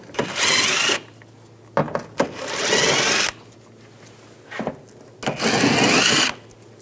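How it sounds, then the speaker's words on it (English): A power tool with an 8mm socket whirs in three loud bursts, separated by short pauses and small clicks, as screws are backed out during catalytic converter work on a 2011-2018 Ram 1500 3.6L V6. "Take these screws out. I'm going to use an 8mm socket."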